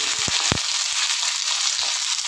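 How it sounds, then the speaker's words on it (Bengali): Two medium potatoes, diced, frying in oil over tempered spices for a raw banana kofta curry, a dense, loud sizzle throughout with a few sharp spattering pops. "ভালো করে আলুটাকে আমি ভেজে নেব"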